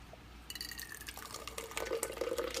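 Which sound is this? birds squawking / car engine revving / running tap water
running tap water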